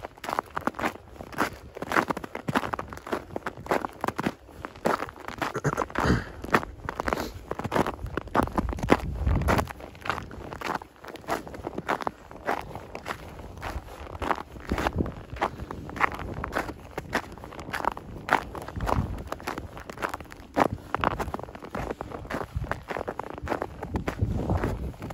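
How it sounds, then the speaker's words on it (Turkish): Footsteps crunch repeatedly over icy snow on a street in Esenyurt, Istanbul, at a steady walking pace, fairly close, with faint background noise. "Geçtiği yerlerde buz olmuş, çatır çatır seslerden duyuyorsunuz."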